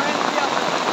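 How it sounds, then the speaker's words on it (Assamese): Heavy, continuous monsoon rain pours down as a dense, even hiss of drops striking surfaces, loud and unbroken throughout. "বৰষুণ পৰিয়ে আছে"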